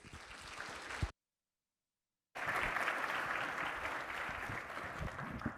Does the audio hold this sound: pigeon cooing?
no